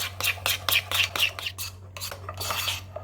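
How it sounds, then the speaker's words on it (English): Melted dark chocolate being stirred into buttercream in a bowl, a spoon or spatula clinking and scraping against the sides in a steady rhythm of close, bright taps and rubs, alone with no voices. "And now just mix this."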